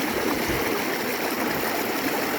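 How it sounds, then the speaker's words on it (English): A river in the Cairngorms rushes past at a hillwalkers' crossing, a loud, steady broadband roar of flowing water close by, unbroken and alone with no voices. "So I've got a wee river crossing here."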